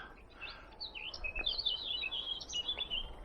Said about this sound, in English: Hark of the birds.